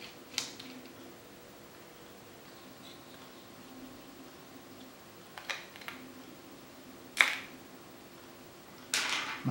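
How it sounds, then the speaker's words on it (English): A screwdriver unscrews an SSD from its mount inside a late 2012 or early 2013 13-inch MacBook Pro Retina, giving soft close creaks and a few sharp clicks and taps spread over a quiet background. "I'm just going to unscrew the SSD"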